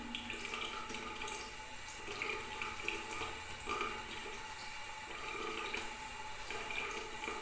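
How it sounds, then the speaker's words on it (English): A sink tap runs steadily during surgical-style handwashing, a soft continuous hiss and patter of water close by, with no voices. "Turn off the water"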